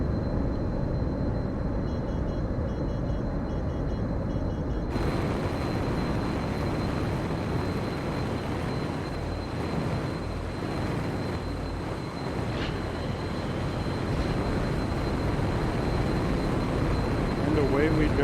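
A Pelican aircraft in Microsoft Flight Simulator throttles up with a sudden jump in steady engine roar that keeps rising into a loud, continuous thrust drone with no talking over it.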